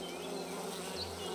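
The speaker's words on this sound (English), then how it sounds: "We got some bees, so maybe." Bees buzz continuously in the cozy witch video game Wylde Flowers, a soft, steady insect drone with no talking.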